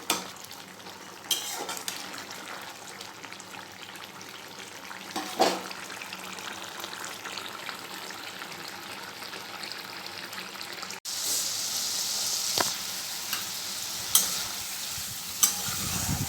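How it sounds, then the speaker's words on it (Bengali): A Malabar spinach stem chochchori with pumpkin, potato, taro and pointed gourd simmers and sizzles in a pan for a long stretch, with occasional scrapes and clinks of a stirring spoon. "তো আমি এখানে একটা চচ্চড়ি বসিয়েছি পুঁই ডাঁটার চচ্চড়ি"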